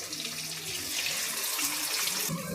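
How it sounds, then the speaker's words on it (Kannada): Water pours steadily into a frying pan of tempering and ground masala, a close, continuous rushing splash that holds for a couple of seconds. "ಈಗ ಒಂದು ಗ್ಲಾಸ್ ಆಗೋಷ್ಟು ನೀರು ಸೇರಿಸ್ಕೊಂಡು"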